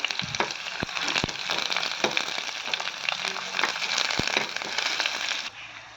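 Ginger, garlic and small shallots fry in hot oil in a pan for a plantain moru curry, a steady dense sizzle with a few sharp pops and crackles throughout, dropping off abruptly at the very end.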